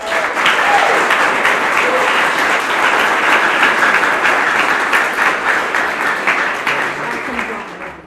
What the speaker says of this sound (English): let's give Victor one more round of applause.